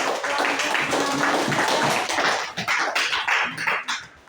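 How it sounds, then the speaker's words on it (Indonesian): An audience at a classroom talk applauds, dense continuous clapping from many hands that thins and fades out toward the end. "Kita beri aplaus."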